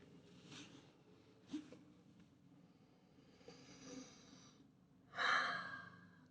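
Slow, soft breaths during a yoga child's pose, a few quiet inhales and exhales spaced apart, with one fuller, louder exhale near the end, close and alone in a quiet room.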